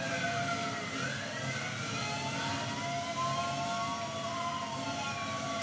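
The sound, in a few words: video game car engine about to stall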